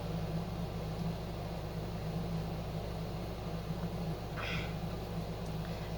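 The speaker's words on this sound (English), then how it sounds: "sorry about the air conditioning noise" Air conditioner running steadily indoors on a hot 90-degree day, a constant low hum and broadband hiss with no change in level, alone without talk.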